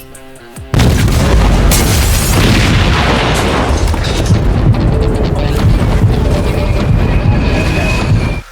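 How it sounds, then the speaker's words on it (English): Film scene of bomb-strapped rats blowing up a compound: a sudden huge blast followed by a long, loud, rumbling roar of continuing explosions and debris. "The explosive rodents spread through the compound, destroying everything,"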